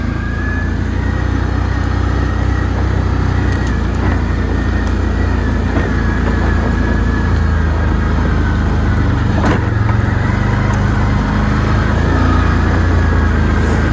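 An ATV being ridden off-road, its engine a steady loud drone throughout with rough bumps and rattles, a cup holder mounted on the machine.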